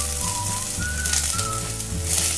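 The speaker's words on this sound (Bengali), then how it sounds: "এগুলোকে সব একটু হালকা করে ভেজে নেব।" Chopped onion, ginger, tomato and cabbage fry in a pan for thukpa, a steady close sizzle running throughout with a faint whistling tone drifting over it.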